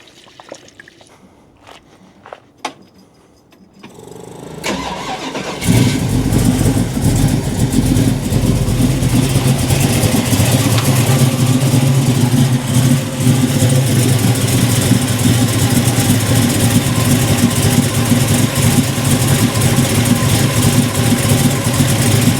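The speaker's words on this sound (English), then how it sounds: "Then we're going to start up this hot rod and let it warm up" A 1968 Camaro big-block V8 hot rod cranks and fires after a few seconds of quiet, then settles into a loud, steady, rumbling idle that holds for the rest of the clip.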